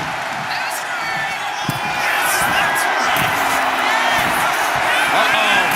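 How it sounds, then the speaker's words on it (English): Arena crowd noise in the WWE 2K25 wrestling video game, a steady roar of cheering with scattered whoops, heard under a commentator's voice for the whole stretch. "She's firing up, getting the crowd behind her."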